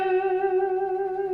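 A fast, frantic rock-style vibrato shakes a held electric guitar note quickly up and down in pitch, heavily processed with distortion and sustaining evenly for a short moment.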